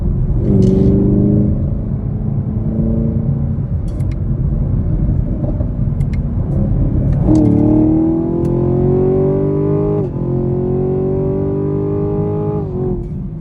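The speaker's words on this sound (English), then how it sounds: "let's go ahead and get a third gear pull in" Loud engine of a 2022 Chevrolet Camaro 2SS 1LE revving hard with rising pitch in a third-gear pull, a brief drop at a gear change, then climbing again under strong acceleration.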